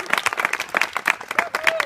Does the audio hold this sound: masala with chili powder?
no